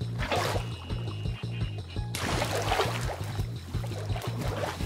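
Water placed from a bucket in Minecraft, a steady rushing wash that swells midway over a constant rhythmic game music bed.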